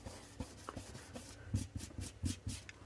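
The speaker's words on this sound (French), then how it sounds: "Je vais enlever la colle ici qui dépasse" Quiet, close dry rubbing and scraping of fingers clearing excess glue off a scrapbook page, in short irregular strokes with no voices.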